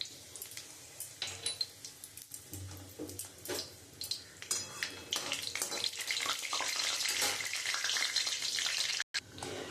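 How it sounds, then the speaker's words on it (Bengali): Bay leaf, dried red chilli and nigella seeds hit hot oil in a kadai, sizzling and spitting in irregular crackling bursts that swell into a denser, louder fry toward the end. "আমি ওই তেলের মধ্যে তেজপাতা, শুকনো লঙ্কা আর কালো জিরে ফোড়ন দিয়ে দেবো।"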